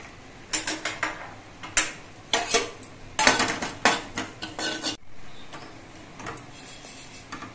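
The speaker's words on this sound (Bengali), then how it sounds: "এবার অল্প করে জিরে আমি ভেজে নিচ্ছি।" Cumin seeds are fried in a small bowl set over a gas burner, heard as a close series of sharp clinks, taps and scrapes of metal utensils against the bowl, coming in short irregular bursts with quieter gaps.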